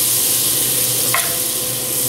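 Butter melts and sizzles in a frying pan still holding browned bits from cooking country fried steak, while it is stirred around. A steady, close, even hiss runs throughout with one brief brighter crackle, and no one speaks.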